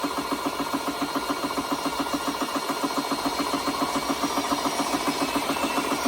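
An Umarex air compressor runs steadily with its two-stage cooling fan, giving a continuous, even, close machine hum with a fast regular pulsing throughout.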